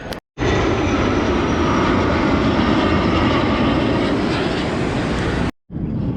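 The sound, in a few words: F-16 fighter jets flying overhead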